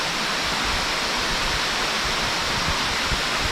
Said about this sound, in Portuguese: essa cachoeira aqui ela é bem verdinha a água